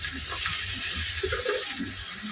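A little water poured into a pan of ground cumin, turmeric and Kashmiri chili for cabbage curry, a short steady trickle and gentle splashing heard close up with no talking.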